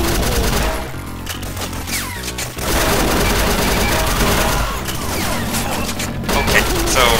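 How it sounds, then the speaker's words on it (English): Gunfire in the video game Doom blasts almost nonstop at close range, dense and loud, with rapid repeated shots and heavy impacts that barely let up across the stretch. "What I'm going to do about that is shoot them back."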